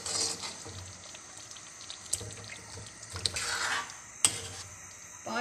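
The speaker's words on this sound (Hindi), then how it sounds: "चम्मच चला के डायरेक्ट में फ़ौरन में ये चिकन डाल देती हूँ।" Chicken hisses and sizzles in hot oil in a pan while a spoon stirs, scraping and clinking against the metal several times.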